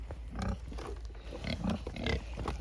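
Pigs grunt at an electric fence on an Alaska homestead, with short, low, rough grunts coming in several bursts at close range and no talking over them.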